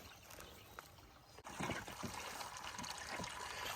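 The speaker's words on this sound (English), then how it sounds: "I'm trying to fill up their water" Water pours and splashes steadily into farm animals' water container after a short quiet moment, a continuous close trickling rush.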